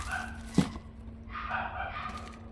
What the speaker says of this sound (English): Dog near my house crazy.